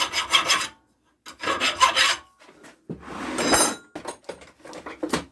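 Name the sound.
metal file filing burrs off controller hull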